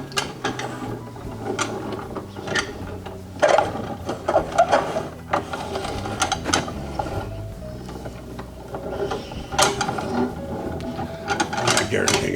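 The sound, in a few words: etching printing press being cranked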